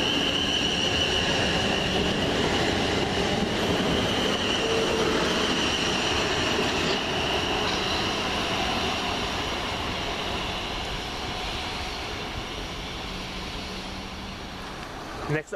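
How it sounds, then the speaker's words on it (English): Passenger train on a London Waterloo to Basingstoke service passing at Farnborough main line station, a loud, steady rumble of wheels and carriages lasting throughout and slowly fading toward the end. "train service from London Waterloo to Basingstoke"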